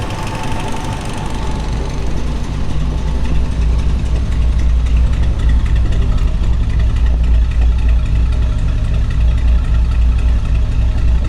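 A 1968 Buick Riviera GS 430 V8 with factory dual exhaust idles steadily with a deep, even rumble and a faint ticking mechanical whir as the AC compressor cycles, loud and close, with no talking.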